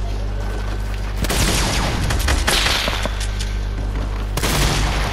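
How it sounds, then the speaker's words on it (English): Rapid bursts of video game gunfire from a solo-squad battle royale match, dense volleys of shots and booms starting after a quiet opening, pausing briefly, then resuming loudly near the end, with a shotgun in play. "Where am I getting shot from?"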